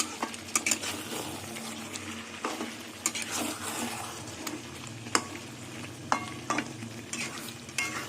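Chicken with spices sautéed in a pan, a steady sizzle under repeated sharp scrapes and knocks of a spatula against the metal.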